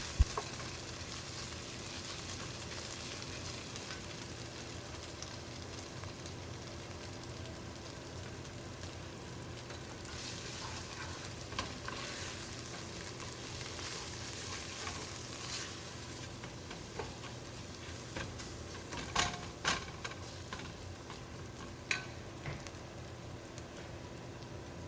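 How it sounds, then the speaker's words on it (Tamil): Turmeric, chili, coriander and garam masala powders sauté with browned onions for a mushroom biryani. The pan gives a quiet, steady sizzle, broken now and then by faint stirring scrapes, with no one talking. "இப்போ நம்மக்கிட்ட இருக்கிற மஞ்சள் தூள், மிளகாய்த்தூள், மல்லித்தூள், அப்புறம் கரம் மசாலா இது எல்லாத்தையும் சேர்த்து ஒரு நிமிஷம் நம்ம வதக்கிக்கலாம்."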